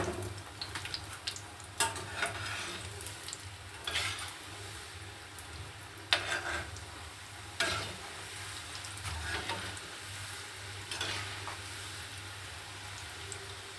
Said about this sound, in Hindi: चलिए अब हम फ्राई कर लेते हैं। तो चलिए गाइस फ्राई कर लेते हैं।